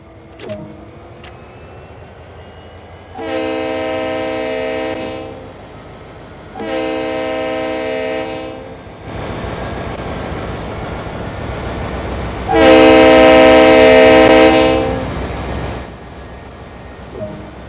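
A locomotive in a train simulator game starts to move, with a loud horn sounding in repeated long blasts over a low rumbling engine and rail noise that builds as the train gets underway.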